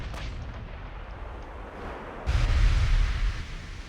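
A battleship gun duel at extreme range in the naval game Ultimate Admiral Dreadnoughts, with a distant rumble building into a deep, booming blast partway through that rolls on for about a second before fading.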